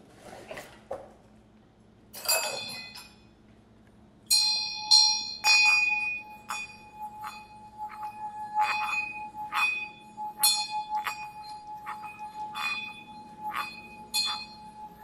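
A Tibetan bell is struck repeatedly while being carried through a house, bright ringing tones with long sustained overtones and occasional clinks, fairly quiet with gaps between strikes and no talking.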